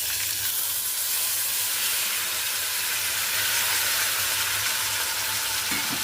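Finely chopped tomatoes hitting a hot pan give a loud, steady, close sizzle and hiss that holds evenly throughout with no talking.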